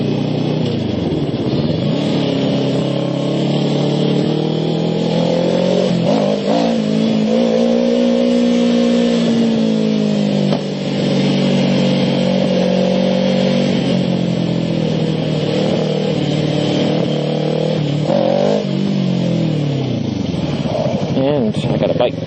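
Motorcycle engine running loud and close, rising and falling through steady revs and acceleration for over twenty seconds, with a rider talking over it.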